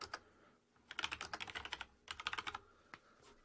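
Fingers type text on a computer keyboard in two quick bursts of light clicking keystrokes, faint and close, with a few isolated taps before and after.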